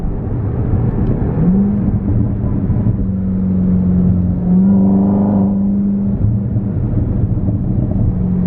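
A 2019 Corvette ZR1 fitted with a Borla X-pipe exhaust drones steadily from close by, its engine holding a low, even tone that rises slightly mid-way; distinct exhaust pops are not clearly evident.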